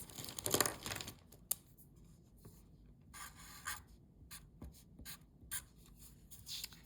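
A pen or pencil scratches tally marks on paper, including a diagonal stroke across them, with soft, faint, close strokes and short rubbing bursts in an uneven rhythm.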